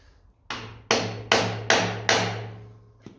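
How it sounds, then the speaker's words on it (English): Five sharp metallic hammer taps ring out in steady rhythm, each decaying quickly, as the cross shaft of a 1955 Ferguson 20 TED TVO tractor is driven through, close and loud, with a lighter tap at the end. "I'm going to tap the cross shaft through from the other side."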